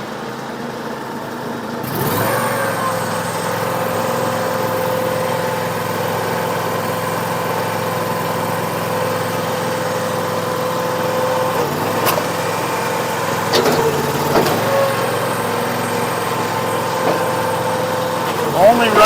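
A small engine on a firewood log splitter runs at about one-third throttle, a steady buzzing drone that starts after a brief quiet moment and holds constant throughout, with a few faint clanks and shifts in pitch.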